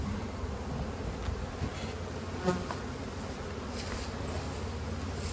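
Honey bees drone in a dense, steady buzz inside a hive two weeks after a package install. The hum holds close and even throughout, and a single brief word is spoken near the start.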